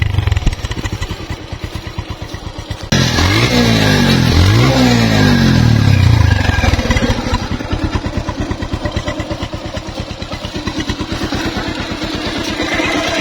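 A used Bajaj Pulsar 150cc motorcycle is self-started and then revs up. After the start it settles into a loud, close, steady idle with a rapid thumping beat.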